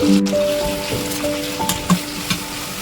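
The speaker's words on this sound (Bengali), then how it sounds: "এটাকে ভালো করে আলুর সাথে সাঁতলে নেব" Steady sizzle of a spice paste frying with potatoes in a wok for a vegetarian dish, with occasional stirring clinks over a low tonal hum.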